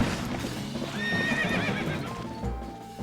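A horse in the Zelda Twilight Princess video game gallops with steady clip-clop hoofbeats and lets out a loud whinny, heard clearly over game sound with no talking.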